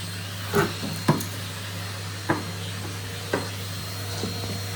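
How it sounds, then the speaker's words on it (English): A vacuum cleaner running steadily behind pulled-out furniture in a cottage entrance, with a constant hum and several sharp knocks and scrapes as the nozzle bumps and rubs along the floor and wall. "And now I'm going to vacuum behind it."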